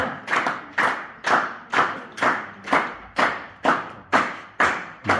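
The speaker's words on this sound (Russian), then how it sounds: "Бурные аплодисменты!" Rhythmic clapping from an audience at a school award ceremony, about ten loud, evenly spaced bursts of hands beating together in unison, close and steady with no talking.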